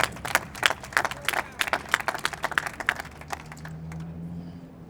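An audience at a city controller's press conference on gun violence claps for Rebecca Reinhardt, a few seconds of close, scattered clapping that fades out into quiet room tone.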